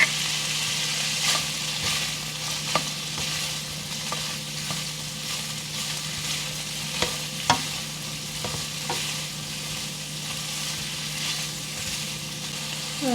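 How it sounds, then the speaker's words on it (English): Chopped scallions and garlic sizzle steadily in a pan as they sauté for a Spanish shrimp scampi, with occasional sharp stirring clicks over the continuous frying hiss and no talking. "I'm adding my scallions that I already cut up and the garlic. And I'm just going to saute this for a minute."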